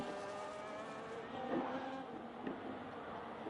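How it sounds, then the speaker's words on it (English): Race cars pull out of the pits in a racing video game during a Brazilian Grand Prix league race, giving a steady, layered engine drone with sustained harmonic tones and a couple of brief louder swells. "Again, first couple of cars are making their way out."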